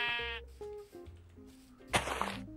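A goat bleats in a Minecraft game, one quivering drawn-out cry followed by shorter game sounds and a sharp burst, fairly close and clear with no talking.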